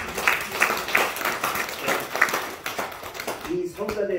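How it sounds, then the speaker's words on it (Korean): A church congregation claps during a Sunday worship service, the applause loose and uneven with some distinct individual claps, while voices and cheering-like calls mix in over it and fade toward the end. "우리 뜨거운 박수 보내주시면 대단히 감사합니다"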